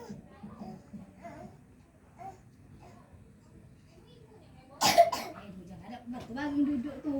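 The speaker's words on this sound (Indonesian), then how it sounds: "Benar, batuk segitu tuh." A single loud cough bursts out amid quiet background speech, followed by a short throat-clearing sound, with soft talking around it indoors near a water jug holding fish.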